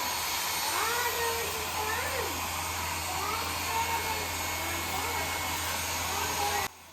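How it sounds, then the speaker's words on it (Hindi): A hair dryer runs steadily at close range while drying a small child's hair after a bath in a home, a constant whooshing hum throughout with faint voices and sounds under it, cutting off abruptly near the end. "हेयर ड्राई हो रहा है नोनी का"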